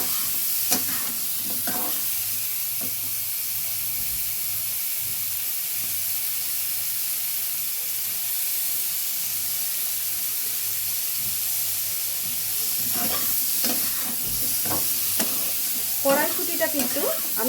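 Vegetables with salt and turmeric fry in a kadai, giving a continuous close sizzle and hiss, broken by bursts of spatula stirring and scraping near the start and again toward the end.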